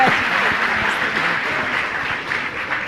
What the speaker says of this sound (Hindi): इस सूत्रात्मक उत्तर के लिए एक ताली बजा दो।